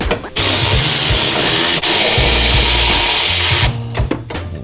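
A power tool runs loud and close while removing 10 mm gold-colored bolts on a titanium exhaust, a continuous whirring drive with a brief pause midway, ending in a few rattling clicks.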